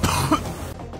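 A person coughs once or twice up close, a short harsh burst with a throat-clearing quality and no talking.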